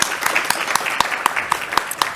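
A small audience at an evening school committee meeting claps for a teacher with 22 years of service, giving brief scattered applause with a few louder, evenly spaced claps standing out nearby.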